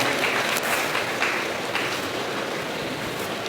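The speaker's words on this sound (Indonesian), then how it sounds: "Tepuk tangan untuk Talib Al-Kamal" A crowd at an Islamic religious sermon gathering breaks into sustained applause, a steady and fairly loud wash of clapping with no clear gaps.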